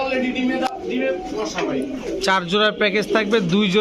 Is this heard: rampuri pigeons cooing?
yes